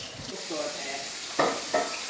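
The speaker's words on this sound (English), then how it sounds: "I'm gonna wash them by hand." Dishes are washed by hand in a sink of dishwater, faint soft sloshing and swirling water broken by two brief clinks of dishes, quiet and close.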